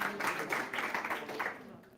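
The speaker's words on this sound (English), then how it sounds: "give a warm round of applause for Web3DS" Audience applause at the Solana Cypherpunk Demo Day in Berlin, a soft, dense patter of many hands clapping, fairly quiet and steady before tapering off near the end, with no voices.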